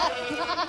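A goat bleats briefly and fairly close, a single wavering nasal call with no other sounds around it.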